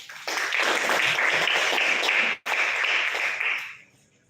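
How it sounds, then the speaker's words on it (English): A school audience gives a round of applause, dense loud clapping from many hands that holds steady with one abrupt cut, then fades out. "Let's give a round of applause."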